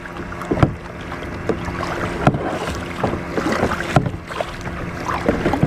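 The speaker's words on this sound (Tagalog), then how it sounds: "Medyo maano yung alon, medyo malakas yung alon, no?" Kayak paddled through strong sea waves on the way to an island, with a broad rush of water and wind and recurring splashy paddle strokes, close and steady, without talk.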